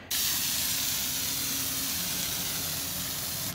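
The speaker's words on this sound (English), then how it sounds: "I'm going to spray this down with WD-40 as a lubricant so it'll slide in easier" A continuous, close aerosol hiss of WD-40 sprays steadily for a few seconds onto a Ski-Doo R-Motion slider hyfax, starting abruptly and stopping near the end.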